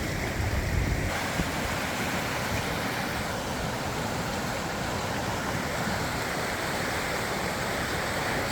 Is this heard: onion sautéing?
no